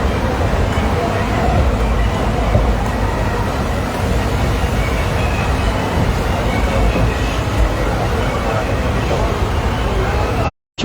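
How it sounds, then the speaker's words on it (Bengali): A train pulling into Bardhaman station gives a loud, continuous rumble and rattle of carriages, steady for about ten seconds before cutting off abruptly at the end. "এবারে বর্ধমান স্টেশন ঢুকে গেছে ট্রেন"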